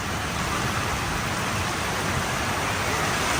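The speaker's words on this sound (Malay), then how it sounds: "Hujan, ribut, angin kencang semua ada lah." Heavy rain pours steadily onto a camping tent's flysheet in a storm with strong wind, a dense, loud, continuous wash of drumming drops filling the whole stretch with no voices.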